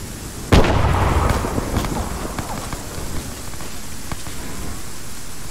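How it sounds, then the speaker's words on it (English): A grenade goes off in the military shooter Arma 3 with one sharp, loud blast, followed by a decaying rumble and scattered crackles and debris. "Let's throw another grenade in."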